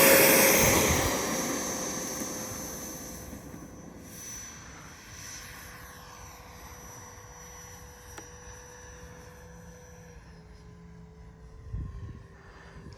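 An F18C Legacy Hornet 90mm RC jet with retracts, flying with no stabilization just after takeoff, roars loud and near at first, then its whine fades into a steady distant hum as it climbs away.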